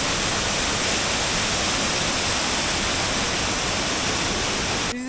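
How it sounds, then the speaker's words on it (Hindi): Mountain river rushing beside the temple path near Kugti village in Chamba, a loud, steady roar of fast whitewater filling the clip close by, continuous and unbroken until it cuts off at the end. "ये है, पहाड़ों से आ रही है, ऊपर पहाड़ों से आती है नदी।"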